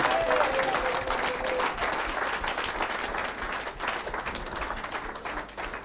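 A church congregation applauds the Lord with sustained, dense clapping filling the room, a voice calling out faintly over the applause early on.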